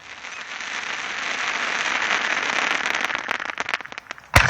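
A crackling Nishiki Kamuro Niagara Falls firework at a fireworks demo hisses and crackles steadily, building into dense popping, then ends with a loud sharp burst.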